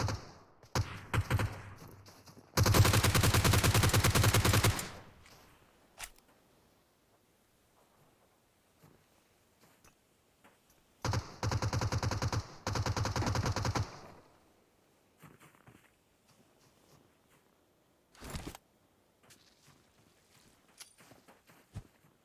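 Bursts of automatic gunfire in PUBG Mobile, two long rapid volleys separated by quieter stretches with scattered single shots and a final short burst, no talk.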